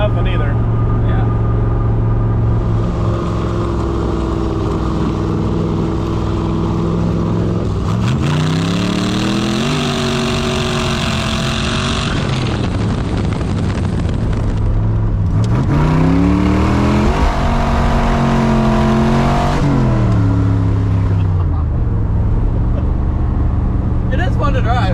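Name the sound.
1967 427 Corvette coupe accelerating with engine revving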